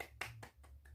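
Children clapping a rhythmic spirit clap during a primary-school lesson, four or five evenly spaced claps, soft and close over a steady low hum.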